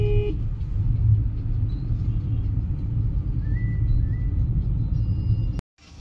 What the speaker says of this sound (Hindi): तो जी गाड़ी कर दी है यहाँ पार्क